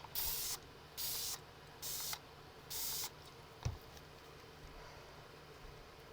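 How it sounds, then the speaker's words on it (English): Four short bursts of hissing spray as alcohol is sprayed from a spray bottle in an even rhythm, close by, followed by a single soft knock and quiet background. "after I spray in a little bit of alcohol."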